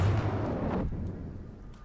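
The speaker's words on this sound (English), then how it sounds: "These rockets are remarkably effective for air-to-air, even if they're relatively low speed and low maneuverability." Rockets launching during air-to-air combat in a flight video game, a loud broad whooshing burst that fades over about a second into a lower rumbling tail, with no talking.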